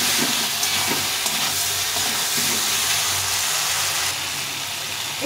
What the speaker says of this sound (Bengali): এখন সিমটা দিয়ে দেব, দিয়ে একটু ভালো করে কষিয়ে নেব।